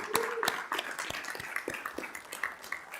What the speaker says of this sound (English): If you would help me give our school board a round of applause.